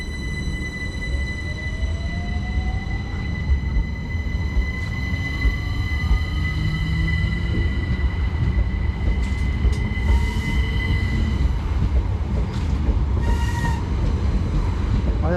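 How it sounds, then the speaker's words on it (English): Southern passenger train to London Bridge at Caterham station, a steady loud rumble of the train with wheels squealing and high whining tones throughout, close by and continuous. "the final now is the 1604 Southern service to London Bridge"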